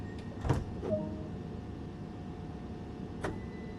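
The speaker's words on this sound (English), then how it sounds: "Let's lock the doors and move on to the next station." Door-locking mechanism on a Class 377 electric multiple unit train in Train Sim World 2: a few short mechanical clunks and a thud near the start, then a steady cab hum and one more click later.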